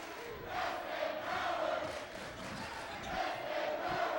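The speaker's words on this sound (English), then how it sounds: "Crowd trying to reassure the Wolves." Crowd noise in a gym during a high school basketball game between the SKHS Wolves and Puyallup Vikings, a steady loud murmur of many voices with swells of cheering throughout.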